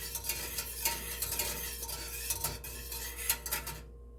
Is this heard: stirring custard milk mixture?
yes